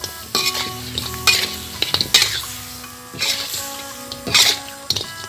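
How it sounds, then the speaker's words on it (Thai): Fried pork ribs are stirred into a simmering sauce in a pan, with repeated metallic spatula scrapes and clanks over a light sizzle, close and irregular, with no talking. "เราก็เอาซี่โครงที่เราทอดผัดไว้นะครับ ลงไปเลยนะครับ"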